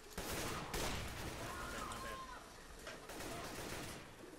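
Rapid gunfire in the shooter game CS:GO, a quick volley of sharp shots clustered early and again near three seconds, fairly faint under steady game noise.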